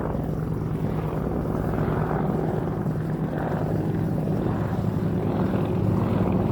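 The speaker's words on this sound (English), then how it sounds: "God, it's a massive helicopter" A big military helicopter flies very low overhead, a loud, continuous rotor and engine roar with a deep rumble that fills the whole stretch and swells slightly toward the end.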